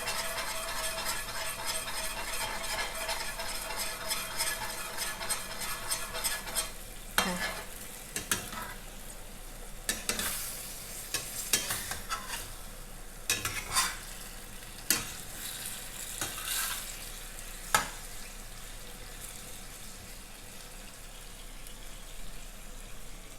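Zucchini stir-fried with eggs in a pan, with the eggs broken up as they cook: a soft sizzle under repeated sharp scraping and clattering strokes of the spatula that come in bursts and then fade.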